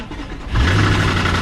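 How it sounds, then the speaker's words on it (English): A Volkswagen MK5 GLI engine starts up close, with a brief crank that catches into a loud, steady low rumble, heard on its own with no talking. "Starting the car"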